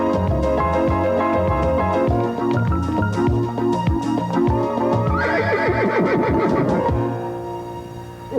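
A horse in a 1991 Yorkshire TV children's comedy gives a loud, close neigh with a descending whinny, heard over busy background music and scene sounds.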